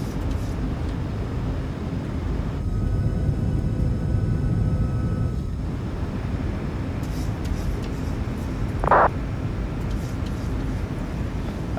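Jet2 PMDG 737 landing at Leeds in Microsoft Flight Simulator: a continuous loud rumble of engine and airflow noise, a brief tonal whine in the middle, and a short chime or alert near the end.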